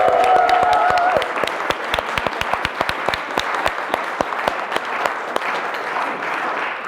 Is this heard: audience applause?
yes